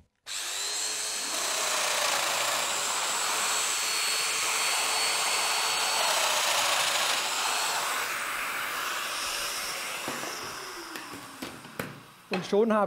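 A Festool Domino joiner plunges into a clamped wooden frame piece to cut a mortise, its motor whining loud and steady for about ten seconds before spinning down with a few clunks at the end.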